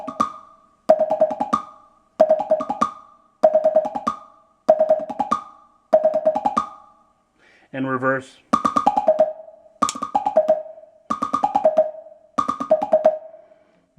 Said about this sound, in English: Okay, so that's the tempo blocks.